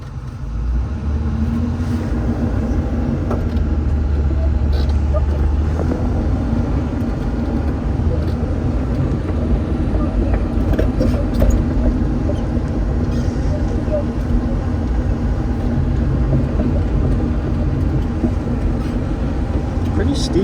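Heavy earthmoving equipment engine throttles up while moving dirt on a steep slick slope, a continuous loud low rumble with clanking, close by, while someone talks over it.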